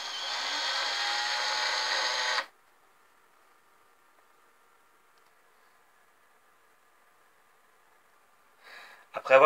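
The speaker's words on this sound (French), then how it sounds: "Pour les planches, vous les percez à 2 cm des bords et un trou au centre." A drill bores into wooden planks for a bird feeder, giving a loud, steady whirring grind for about two seconds before cutting off into near silence, then a few brief clattering knocks.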